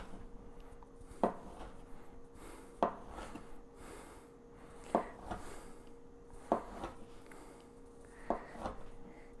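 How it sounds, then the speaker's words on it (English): A knife cuts through sourdough pasta sheets on a board, five evenly spaced soft thuds with faint rubbing scrapes between them, close and quiet. "we're just going to take the knife, cut the width that you want"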